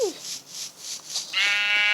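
Sheep bleating in Minecraft Pocket Edition: a run of nasal, wavering bleats, close and fairly loud, with a sustained tonal bleat at the end.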